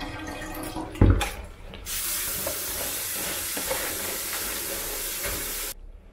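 Rinse water is poured out of a container while washing wheat grains, a steady splashing hiss after a brief clatter, lasting a few seconds before stopping abruptly, close by.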